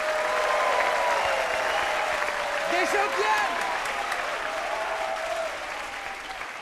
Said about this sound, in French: On les applaudit chaleureusement.